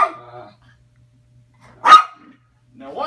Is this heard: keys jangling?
no